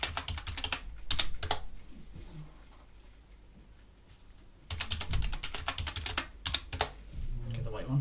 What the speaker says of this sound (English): Now type in the password.